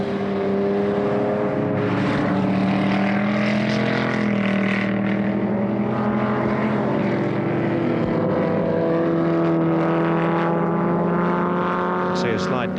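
A big touring car races around the tight Warwick Farm circuit in 1973, a loud sustained engine roar with rising and falling pitch as it works through the gears, steady and close throughout.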